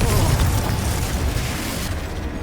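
Confringo fire spell explosion in the Hogwarts Legacy video game, a loud, dense booming blast that fills the clip and rumbles continuously before tapering off at the end.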